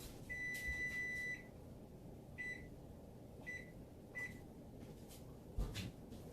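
A kitchen oven being switched off gives four faint electronic beeps at uneven intervals, one long and three short, over a quiet room hum.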